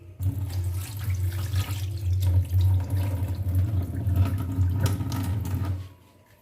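Mung dal being rinsed in water, a steady close splashing and running-water wash that continues without pause for about six seconds before cutting off, with no voices.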